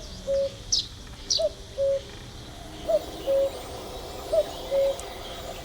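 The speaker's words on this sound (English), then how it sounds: "Right, the cuckoo flew off that way." A cuckoo calls repeatedly in a hunting video game, its clear two-note calls spaced evenly at moderate distance, with higher bird chirps now and then over a quiet outdoor background.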